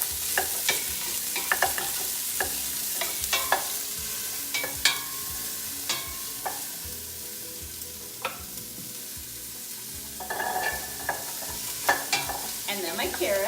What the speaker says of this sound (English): now I hear a little sizzle, so the next thing I'm going to add is my rough chopped onion